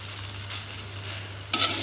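Brief, soft sizzle of noodles frying in a wok, ending in a sharp scrape as they are stirred.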